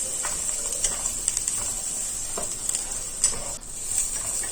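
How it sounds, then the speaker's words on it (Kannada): Green chillies, chopped onion and cumin fry in hot oil in a pan, giving a steady close sizzle and hiss broken by light scraping clicks of stirring. "ಅದಕ್ಕೊಂದು 2 ಕಾಯಿ ಮೆಣಸು, ಒಂದು ಹೆಚ್ಚಿದ ಸಣ್ಣ ನೀರುಳ್ಳಿ, ಒಂದು 1/4 ಸ್ಪೂನಷ್ಟು ಜೀರಿಗೆ ಹಾಕ್ಕೊಂಡು ಫ್ರೈ ಮಾಡ್ಕೊಳ್ತಾ ಇದ್ದೀನಿ"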